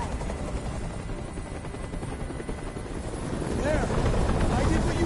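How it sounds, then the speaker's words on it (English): Helicopter in the video game Detroit: Become Human, a steady loud rotor drone with wind-like broadband rumble, swelling slightly louder near the end, with faint voices beneath. "I can't stand that noise anymore. Tell that helicopter to get out of here."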